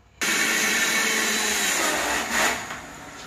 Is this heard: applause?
no